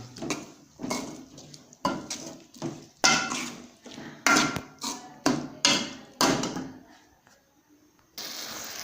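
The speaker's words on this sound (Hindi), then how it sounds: "टमाटर अच्छे तरीके से मिक्स करेंगे हम" A spoon stirs tomatoes in a pot of chicken karahi, giving repeated clanks and scrapes against the metal in an uneven rhythm, with a short pause before a steady hiss at the end.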